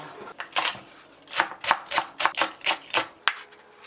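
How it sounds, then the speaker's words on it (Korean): Quick, crisp knife strokes chop green onion against a cutting board, about a dozen close taps in a fast, uneven rhythm. "도마 쓰는 김에 파도 같이 썰어줄게요."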